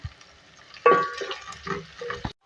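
Onions, green chillies and chopped coriander fry in a pan for Hyderabadi aloo palak, giving a close, steady sizzle with stirring scrapes, one sharp clatter early on, then an abrupt stop.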